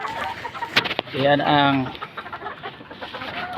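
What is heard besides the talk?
chickens clucking while feeding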